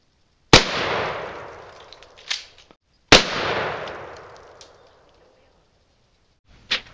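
Shotgun firing number 8 birdshot outdoors: two loud, sharp blasts a few seconds apart, each followed by a decaying echo and faint handling clatter, then a brief distant knock at the end.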